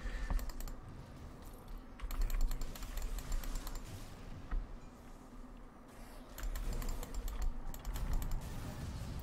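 Heavy, rapid clicking and clattering on a computer keyboard and mouse during a Grim Dawn gaming session, close and steady in bursts with short pauses and no talking.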